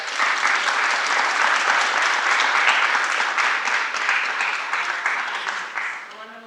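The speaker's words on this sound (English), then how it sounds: "Can we give Joe a round of applause" An indoor audience at a small business event claps in sustained, dense applause that stays loud and steady before tapering off toward the end.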